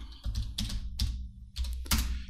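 Computer keyboard keys pressed in a quick run of clicks and taps during a Spanish-language tutorial on making a looping animated text background, with no talk over them.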